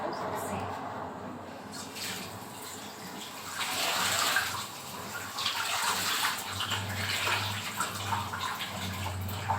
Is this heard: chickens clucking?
no